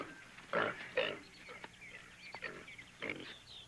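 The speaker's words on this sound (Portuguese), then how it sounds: "Ele poderia perfeitamente ter se referido a esse porco aqui." A sow snorts and grunts in short bursts close by, several rough oinks spaced over a few seconds against faint background noise.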